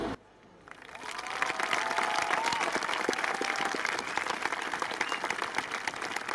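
A crowd at the Grenfell Silent Walk anniversary gathering bursts into applause after a brief quiet moment, building to loud, sustained clapping with some cheering mixed in.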